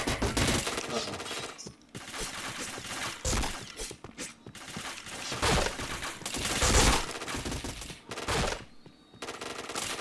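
Dense video game gunfire rattles almost continuously, bursts of automatic fire and shots overlapping at close range with brief gaps between.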